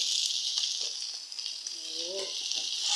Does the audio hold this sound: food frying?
yes